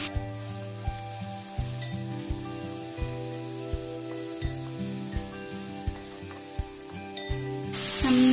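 Sliced onion and coconut pieces fry in oil for a dried prawn roast, giving a steady close sizzle with regular soft ticks of stirring about every half second and a brighter hiss rising at the end.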